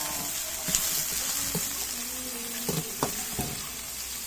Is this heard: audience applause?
no